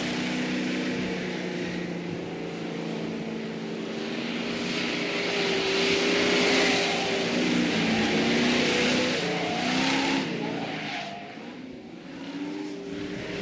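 A Ford Mustang Boss 429 muscle car is driven hard around a pylon course. Its engine roars steadily and loudly throughout, with the pitch rising and falling as the throttle changes, and no one speaks.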